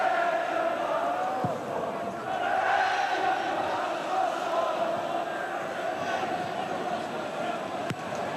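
Football crowd at Tynecastle during a Hearts versus Celtic match, a steady, distant stadium murmur with occasional swells of chanting, heard under a commentator's voice.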